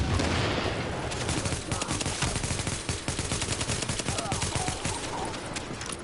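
Rapid automatic gunfire in The Division on PS4 Pro, a dense loud stream of shots with sustained, overlapping bursts throughout, no talking.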